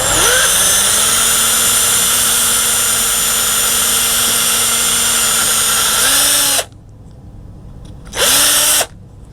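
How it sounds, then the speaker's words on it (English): A power drill whines steadily at high speed for several seconds drilling through a broken plastic pin in a Volvo cupholder, stops, then gives one more short burst close up. "I'm just going to drill right through where that broken off plastic pin is"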